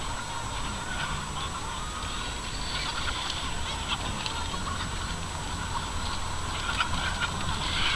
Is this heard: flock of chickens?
yes